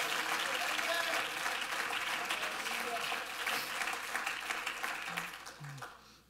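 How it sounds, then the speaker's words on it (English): A church congregation at a Sunday worship service breaks into sustained applause and clapping that fills the room, gradually fading out toward the end, with a voice heard faintly beneath it. "clap your hands to the Lord."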